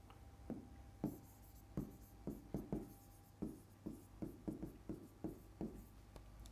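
Marker strokes on a Maxhub interactive panel surface: a steady run of about fifteen short, distinct taps and scratches in irregular rhythm, close and clear over a low hum, with no talking.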